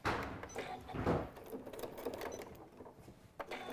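A home sewing machine with a regular needle stitches through Velcro while making a stuffed nativity figure, a steady close whirring run that rises and dips with a few clicks near the end.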